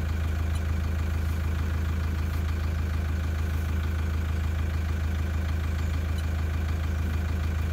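A car engine with an injector problem idles steadily while warming up from cold, a constant low rumble with a faint irregular knock, loud and close, with no talking.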